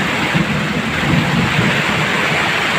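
Heavy rain pours and thunder rumbles continuously around a boat out at sea in a storm, a dense, loud, steady roar with low booming swells and no pauses.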